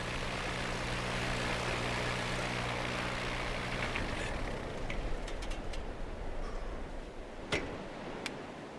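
A small propeller airplane idles and hums steadily on a beach just after touching down, then its engine drone fades, leaving only faint ticks and clicks.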